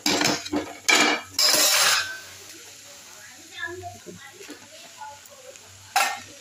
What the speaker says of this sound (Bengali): ভাতগুলো দিয়ে এখন আমি ফ্রাই করব